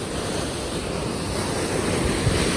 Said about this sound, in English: This shows how fast moving the river is.